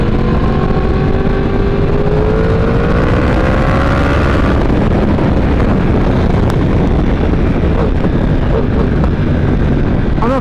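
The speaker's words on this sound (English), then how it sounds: "And it has that fantastic exhaust sound." Yamaha R1M sport bike exhaust while riding, a loud continuous engine note with rising harmonic sweeps under heavy wind rush, easing after a few seconds into steady roar and buffeting.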